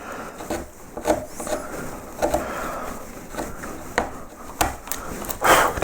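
A bent gouge carves curved raised lettering in wood, giving a close run of short, uneven scraping and cutting strokes with small knocks between them and no speech.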